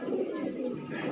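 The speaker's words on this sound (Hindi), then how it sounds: "ये फर्रुखाबादी भाई साहब, ये देखिए काफ़ी लंबा कबूतर है" A long-bodied Farrukhabadi pigeon coos softly and continuously at close range in a pigeon seller's setting, a low murmuring sound lasting about a second.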